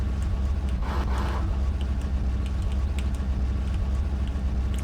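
Vehicle engine in the video game S.T.A.L.K.E.R. (OGSE Shadow of Chernobyl mod), a steady low rumbling drone held loud and continuous throughout, with a brief brighter swell near the start and no talking.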